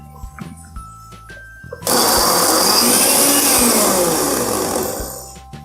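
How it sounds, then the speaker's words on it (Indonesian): A blender grinding shrimp paste starts abruptly after some light clinking and runs loud and steady with a harsh whirring roar, then eases slightly toward the end. "Sekarang kita coba nyalakan blendernya."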